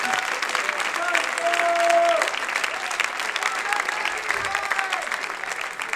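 Church congregation clapping during a sermon, a continuous moderate applause with a few faint voices and crowd murmur mixed in, a whistle-like tone briefly rising above it.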